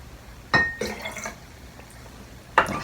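Water poured out of a glass being tuned as a musical note, brief splashing and clinking bursts separated by quiet, followed by a sharp glassy clink near the end.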